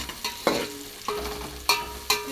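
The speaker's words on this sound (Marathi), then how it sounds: "आधी मिरच्यांना फोडणी दे, त्याला त्याला तडतड करू दे." Green chilies tempering in hot oil, giving a quiet sizzle punctuated by a few sharp pops and stirring scrapes, spaced irregularly and heard close with no talking.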